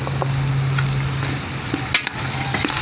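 Kamias go into a pan of simmering papaitan, a Filipino offal stew, with a steady sizzle and the light scrape and clatter of stirring throughout. No voices are heard.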